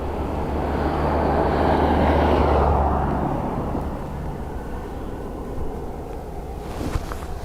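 Air Baltic airliner taking off at Dublin Airport, a broad roaring engine rumble that swells to a peak in the first few seconds then fades to a steady distant drone, with a faint click near the end.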